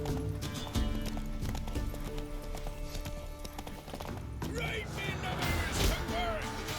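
Horse hooves clip-clop in The Witcher 3, a steady trotting beat at moderate distance with game ambience and a brief voice behind it.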